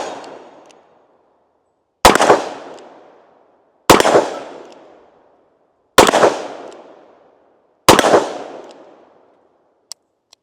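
Four loud, sharp gunshots from a Smith & Wesson Model 19 revolver fired single action, spaced about two seconds apart, each with a ringing decay, followed by a couple of faint metallic clicks.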